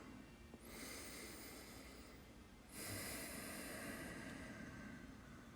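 Heavy audible breathing during a basic mobility and stretching routine, two long broad breaths, the second louder and starting near the midpoint, close and alone with no speech.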